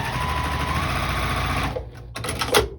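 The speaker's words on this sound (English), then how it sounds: "we will sew them with a 1/4 inch seam" A sewing machine stitches quilt block fabric with a quarter-inch seam, running in a fast steady whir for under two seconds, then stopping, with a couple of short clicks and a brief restart at the end.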